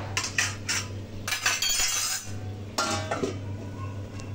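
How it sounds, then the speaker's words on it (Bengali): A metal lid and pot clatter and clink in a home kitchen as a pot of Bengali shukto is covered, with several sharp knocks and scrapes close by. "এবার একটু ঢেকে রেখে দেবো।"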